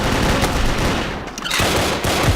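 Continuous rapid gunfire in the shooter game Brick Force, loud and dense with brief gaps and no talk over it.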